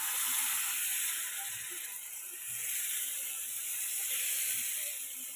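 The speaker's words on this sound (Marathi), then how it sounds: "आता त्याच्यामध्ये हे सारण आपण घालून घेऊया." Moong dal uttapam batter spread on a hot oiled pan, giving a steady close sizzle and hiss that holds at an even level the whole time, with faint scattered crackles underneath and no talking.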